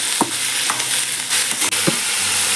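Onion and tomato sautéing in a pan for a country chicken curry, a steady broadband sizzle with several sharp scraping stirs of the spoon, close and loud, no talking.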